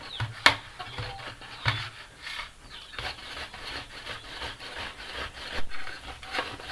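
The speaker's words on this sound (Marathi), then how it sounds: "आणि आता हा बटाटा त्याच्यामध्ये किसून घ्यायचा आहे" Potatoes are grated on a handheld grater, giving close, irregular rasping scrapes in uneven strokes with a few sharp knocks, no voices.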